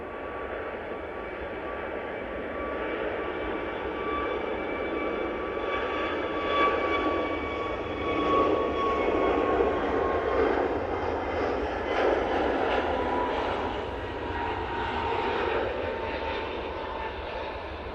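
An Airbus A321neo jet departs Manchester Airport bound for Dalaman, its engines a broad, sustained roar that swells slightly and rumbles on steadily at a moderate distance throughout.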